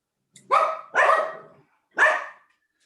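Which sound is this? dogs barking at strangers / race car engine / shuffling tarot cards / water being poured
dogs barking at strangers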